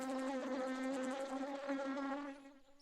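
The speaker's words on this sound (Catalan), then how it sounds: "És una abella." A bee gathering nectar near flowers buzzes loudly and steadily close by, its drone holding for about two and a half seconds before fading away.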